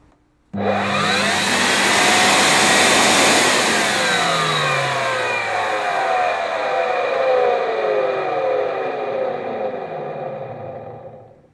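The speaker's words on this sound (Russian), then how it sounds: "Моющий пылесос. Так, ничего не светится. Пробуем включать." A washing vacuum cleaner switches on abruptly and roars loudly, its motor whining and shifting in pitch as it keeps running.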